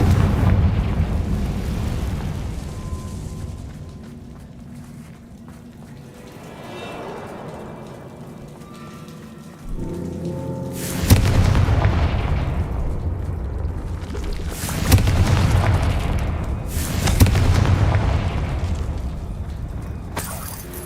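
Confringo fire spell explosions in Hogwarts Legacy, a deep rumbling build followed by several loud booming bursts with crackling debris, close and powerful over a low game ambience.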